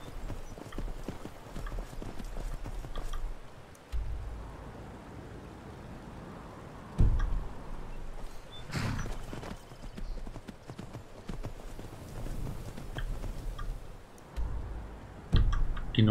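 A horse's hooves clip-clop steadily in the video game Skyrim as it travels along a riverbank, a close, rhythmic beat that stays continuous, with occasional louder thumps and soft clicks.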